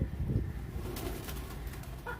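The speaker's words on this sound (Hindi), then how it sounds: "ये कबूतर है" A pigeon coos softly in an outdoor rooftop setting, low murmuring calls under faint background hiss and a few light clicks, fairly quiet and close.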